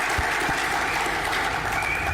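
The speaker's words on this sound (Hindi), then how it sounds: "फिर एक बार आप सभी के लिए जोरदार तालियां" Loud, dense applause from a large audience at a corporate success celebration in Hyderabad, steady clapping filling the whole moment with no voices on top.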